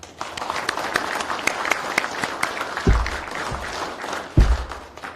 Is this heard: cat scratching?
no